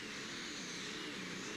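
A Sigma Power pulling tractor, driven by a Finnish driver, roars steadily and loudly as it launches down the track at a 1997 tractor pulling event in Herning, a dense unbroken engine blast with no talk over it.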